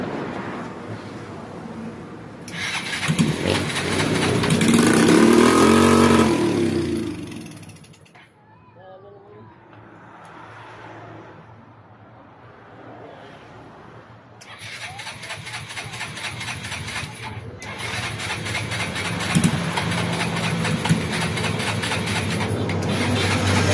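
A small motorcycle with a newly refitted carburetor is cranked and catches, giving a loud, raspy running burst, then fades to quieter mechanical fiddling before revving strongly again. People talk in the background.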